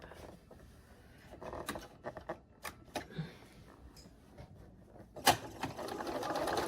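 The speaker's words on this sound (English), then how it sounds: "I'm just going to sew to the seam line." A sewing machine stitches a double wedding ring quilt seam in short, quiet bursts of rapid whirring, broken by a few clicks and pauses, and runs more steadily near the end.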